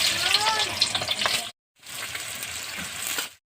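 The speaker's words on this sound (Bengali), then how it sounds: "তেল গরম হয়ে গেছে, আমি এখন পেঁয়াজ ভেজে নেবো বেরেস্তা করার জন্য।" Onions frying in hot oil in a pan for biryani, a steady broadband sizzle in two stretches split by a short silent break, with no talking.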